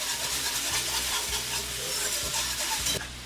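Gravy for chicken fried steak bubbles and sizzles in a pan while a utensil stirs it, giving a dense, steady hiss broken by repeated soft scraping strokes.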